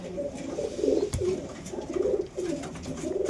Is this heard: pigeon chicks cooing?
yes